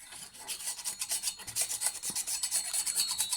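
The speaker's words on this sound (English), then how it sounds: "just scraping all the junk off" Repeated rasping scrapes as debris is cleaned off the blades of a Stihl HLA 56 hedge trimmer, a steady back-and-forth rhythm of gritty strokes, close and fairly quiet, with no talk.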